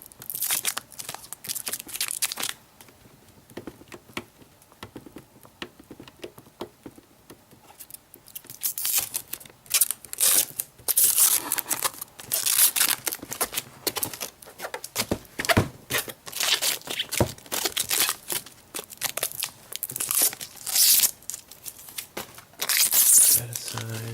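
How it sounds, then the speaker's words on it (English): Packing tape is ripped and peeled off a Wii U Deluxe box in bursts of loud, crackling tears and plastic crinkles, close by, with quieter gaps between and some talk mixed in. "Let's get the tape off of here."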